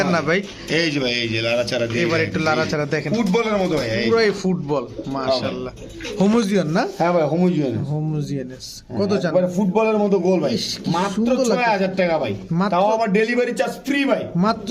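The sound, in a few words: pigeons cooing, female pigeon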